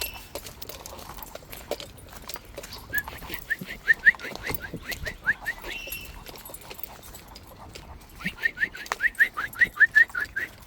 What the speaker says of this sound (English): That one bird, that weet weet weet weet weet weet weet weet weet weet weet weet,